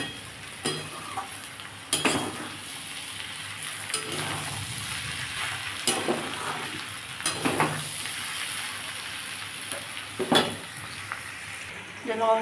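A salted mixture fries in a pan while a spoon scrapes and clinks against the metal every second or two, over a constant nearby sizzle, with no talking.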